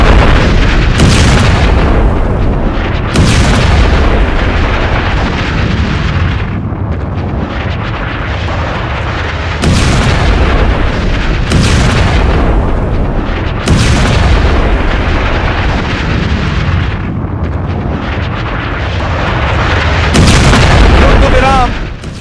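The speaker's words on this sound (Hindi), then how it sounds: "तेहरान में यह ब्रिज उड़ा दिया गया" Repeated heavy booms from a bridge being blown up in Tehran, several loud blasts spaced a few seconds apart over a continuous roaring, rumbling background.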